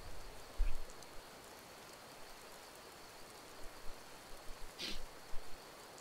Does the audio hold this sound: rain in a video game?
yes